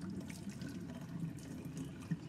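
Water poured off a pot of boiled eggs into a sink, a steady low rushing stream that runs without pause and stays fairly quiet and close, with one small splash near the end.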